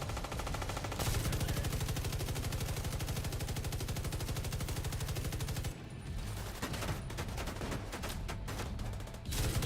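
Sustained rapid automatic gunfire in the video game The Division 2, loud and continuous at first, then giving way to scattered, irregular shots and impacts nearby.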